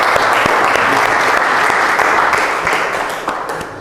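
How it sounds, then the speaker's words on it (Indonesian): A classroom of students claps for classmates who have just recited Quran verses, loud dense applause close by that holds steady for several seconds and then tapers slightly toward the end. "Kasih tepuk tangan buat teman-teman tadi ya."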